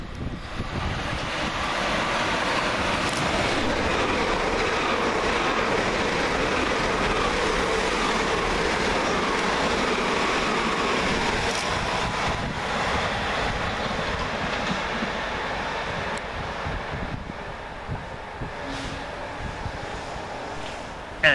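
Class 387 electric multiple units rush at speed through Burgess Hill station on the London Victoria to Brighton line, a loud sustained roar and rumble that swells and slowly fades over about twenty seconds.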